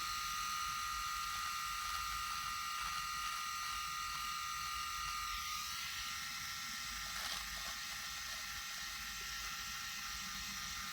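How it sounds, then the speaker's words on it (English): PHISCO electric shaver with its pop-up trimmer running, a steady close buzzing whine that shifts slightly in pitch partway through, with no voices. "Let's see if how the trimmer works."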